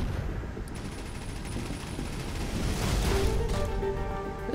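Rapid gunfire from a big, fast-firing weapon in the space game Avorion, a dense continuous burst of shots filling the clip and growing slightly louder toward the end, with no talk over it.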